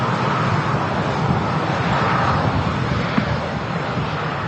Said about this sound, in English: Ryanair touching down from Murcia.